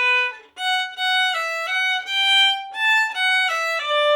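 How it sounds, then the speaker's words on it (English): Solo violin or viola playing a hooked-bow rhythm followed by eighth notes, a clear string tone with bright harmonics in short, distinct bowed notes, close and alone with no talk. "This hooked bow followed by eighth notes,"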